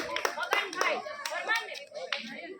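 An audience claps for the children, a faint, scattered round of hand claps under some nearby talking.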